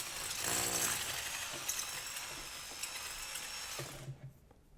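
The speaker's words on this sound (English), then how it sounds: "I'm going to drill this now to 1/2 of an inch" A drill bores a half-inch hole through a wooden floor joist, a steady whining grind with rough chattering bursts that runs for several seconds before stopping, close and without talk.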